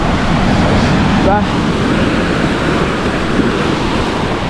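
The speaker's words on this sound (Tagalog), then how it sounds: "Dahil sobrang lakas ang hangin, bago sobrang lalaki pa ng alon, no? Pero yung alon na yan, nalalaki ba namang yan," Big ocean waves crash and churn under strong wind that buffets the microphone, a loud steady roar of surf throughout, with someone talking over it.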